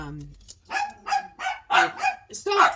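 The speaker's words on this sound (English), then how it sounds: "God, these dogs, stop!" Several dogs bark in quick, close bursts indoors, a run of sharp yaps repeating about every half second with a voice mixed in among them.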